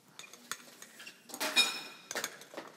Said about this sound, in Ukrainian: А я за той час збив яйця.